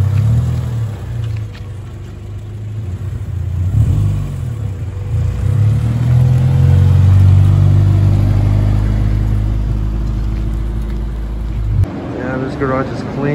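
A Honda Civic EG hatchback idles close by, then its engine rumbles louder and revs as it pulls away, fading slightly before a sudden change near the end.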